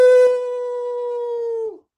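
A person imitates a dingo with a long, rounded "O"-shaped howl held at one steady pitch for almost two seconds, loud and close, with no other sounds.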